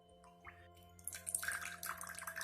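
Water is displaced as a clay boat floats, giving quiet trickling and dripping splashes that rise in the second half, close and soft, with no talk.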